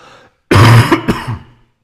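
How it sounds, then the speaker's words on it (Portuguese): A harsh, close cough, one strong rough burst followed quickly by a shorter second one, then quiet. "Hoje estou ficando com um tosse de cachorro."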